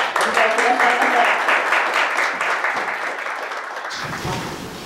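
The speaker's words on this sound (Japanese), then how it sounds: "皆様、盛大な拍手でお迎えくださいませ。" Applause from the audience at a Japanese memorial gathering, welcoming a former First Airborne Brigade comrade to the podium, a dense steady clatter that fades near the end.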